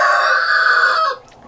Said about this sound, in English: There's my male turkey.